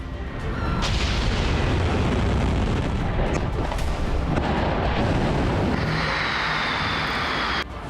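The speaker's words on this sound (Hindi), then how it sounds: "धमाकों से दहला तेहरान।" Continuous heavy rumbling with repeated deep booms of explosions in Tehran during an Israeli air strike, loud and dense throughout.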